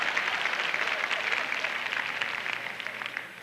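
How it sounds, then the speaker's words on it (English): An indoor audience claps as a sustained, dense wash of hand claps that holds at an even level before tapering slightly. "Only half of you were clapping"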